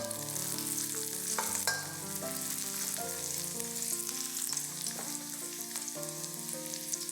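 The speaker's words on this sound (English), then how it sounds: "Put in the ginger and the white parts of the spring onions. Fry them till they are fragrant." Ginger and the white parts of spring onions fry in sesame oil in a wok, giving a steady close sizzle with occasional stirring scrapes over soft background music, no voices.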